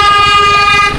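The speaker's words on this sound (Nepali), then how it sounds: "यस्तो बाटोमा नि हामीलाई हर्न बजाइरह पागलहरू जस्तो" A speeding vehicle's horn on a road near Pokhara, Nepal, blares as one loud, close, steady honk that lasts the full second, with engine rumble underneath.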